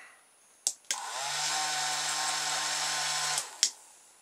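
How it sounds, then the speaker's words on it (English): A small electric motor fitted with magnets is switched on with a click and whines up to a steady high hum for about two seconds, then stops with further clicks, close and clear. "start the motor"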